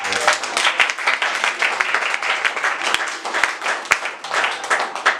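Congregation at a French-language church service applauding together, a dense steady wash of many hands clapping with scattered sharper claps, fairly close and continuous throughout with murmured voices mixed in.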